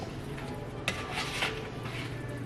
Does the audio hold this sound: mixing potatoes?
yes